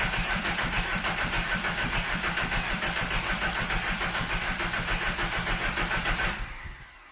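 A VW Caddy engine, hooked to a booster, cranks and runs in a steady rhythmic chug for about six seconds before cutting off abruptly, loud and close with no one talking.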